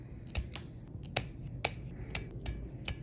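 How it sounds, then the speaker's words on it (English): Glued-on nail tips are trimmed with a run of sharp, quiet clipping snaps, about eight evenly spaced cuts in three seconds. "Now I'm going to trim them down."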